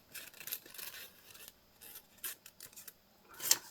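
Scissors snip through decorative craft paper in several short, quiet bursts with pauses between, ending in one sharper final cut.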